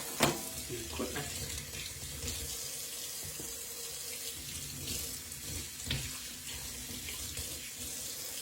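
Tap water runs steadily into a sink while a mesh fish net is rinsed of soap under the stream, with small splashes and clatters throughout.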